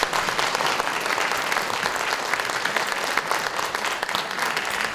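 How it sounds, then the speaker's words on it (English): Sustained audience applause at a town hall meeting welcoming the board, dense steady clapping from a crowd throughout, fairly loud and even with no pauses. "Let's give them a round of applause."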